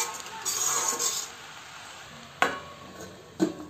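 Aloo methi sabzi of potatoes and fenugreek sizzling and being stirred in a pan, then two sharp metallic clinks as the lid is set in place, close and fairly quiet.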